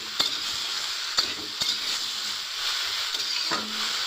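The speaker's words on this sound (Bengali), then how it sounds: "এটা হালকা পরিমাণে একটু ভাজা ভাজা করে নেব।" Okra fries lightly in a pan with turmeric, giving a soft, steady sizzle. A few sharp clicks of stirring break through at irregular intervals, and no one speaks.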